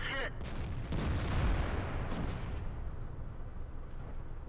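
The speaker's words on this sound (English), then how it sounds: "So you can see there the gun does fire quite rapidly" D2 tank gun firing in World of Tanks: a heavy boom opens the passage and rolls into a long decaying rumble, with a few later sharp reports.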